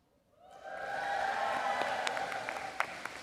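A graduation audience at a college convocation breaks into applause and cheering that swells after a quiet start and continues as a dense, moderately distant clatter with a few scattered whoops.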